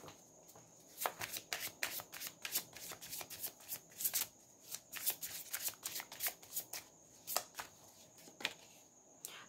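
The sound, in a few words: shuffling tarot cards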